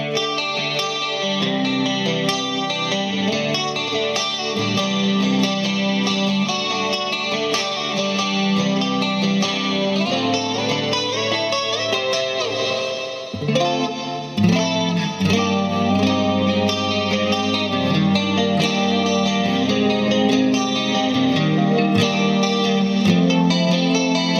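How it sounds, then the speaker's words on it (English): Electric guitar on a clean channel with a shimmering Boss CE-2 chorus effect, playing a continuous chordal riff with sustained notes and a brief dip midway, no voices. "I'm going to add a little bit of chorus to it"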